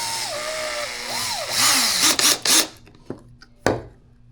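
A power drill drives a screw into PVC pipe for a DIY fishing rod holder: a few short whirring bursts and rasping grinds, then scattered clicks and taps, over a faint steady hum.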